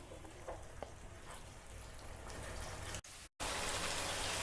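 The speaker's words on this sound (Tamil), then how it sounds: "நல்லா கொதி வரட்டும்." Chicken with spinach simmering in a pot, giving a soft, steady bubbling and sizzling hiss with faint pops, close and continuous.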